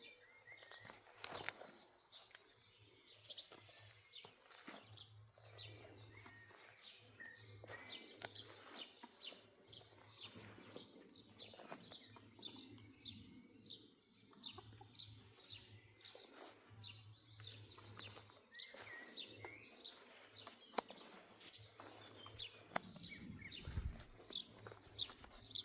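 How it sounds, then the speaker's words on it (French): Faint birds chirp and call intermittently in quiet outdoor surroundings, with scattered soft rustles and footstep-like sounds, and a few brighter chirps near the end. "1 minute de silence pour écouter le chant des oiseaux"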